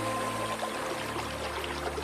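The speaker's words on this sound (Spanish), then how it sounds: "El agua fluía a través de un sistema de canales." Water runs steadily through irrigation canals fed by monsoon rain, a continuous soft rushing and pouring without pauses over a faint low hum.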